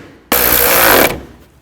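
A power tool drives bolts during a water pump replacement on a 2009-17 Chevy Traverse, one loud, steady burst of whirring lasting about a second, close up, with no talk.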